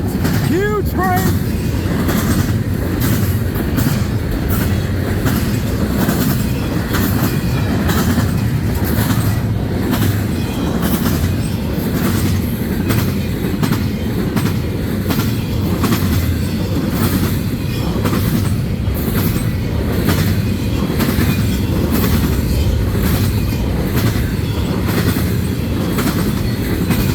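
A CN freight train, a Q-train led by a G-Boat locomotive, rolls steadily past at close range with continuous loud rumble and rhythmic wheel clatter on the rails, with someone talking briefly at the start.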